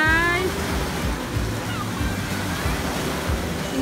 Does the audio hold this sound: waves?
yes